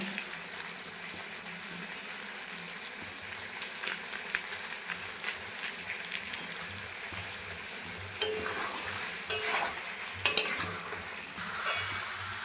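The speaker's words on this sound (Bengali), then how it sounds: "মশলার সঙ্গে কষিয়ে নেব দেখুন ঝলটাও কিন্তু শুকিয়ে গেছে দিয়ে দিচ্ছি এক চামচ লাল লঙ্কার গুঁড়ো" Chicken is stir-fried with spices and red chilli powder in a pan, a soft sizzle under repeated scraping and clinking stirs that grow busier toward the end.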